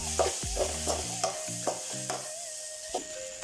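Vegetable fried rice with chili powder being stir-fried in a pan, with a steady sizzle and regular scraping strokes of a spatula, close and clear, about eight strokes in a few seconds, no talk.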